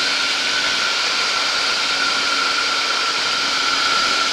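A light aircraft engine in flight runs at 4,500 RPM as a loud, steady drone with a constant whine and heavy wind rush, unbroken and without speech.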